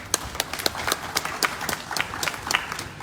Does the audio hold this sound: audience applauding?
yes